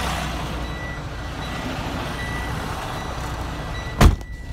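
A truck backing up a fully loaded trailer gives off steady reversing beeps over a low engine rumble, with a sharp louder clunk or hiss near the end.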